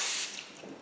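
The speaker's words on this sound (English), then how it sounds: "This is a water spray." A water mist spray bottle from a beauty subscription box releases a short, close hiss of fine spray that fades quickly, followed by a quieter tail with no speech.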